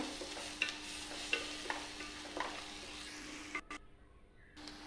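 Chili, turmeric and cumin powder being stirred in a pan for samosa filling, a quiet soft sizzle broken by regular spoon taps, then a brief pause.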